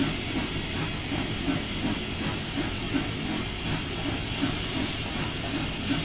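Steam hiss from a Union Pacific 844 steam locomotive with the throttle fully open, a steady loud broadband rush with faint rhythmic chuffing pulses underneath, continuous throughout.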